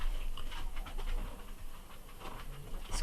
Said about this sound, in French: Excusez pour mes chiens.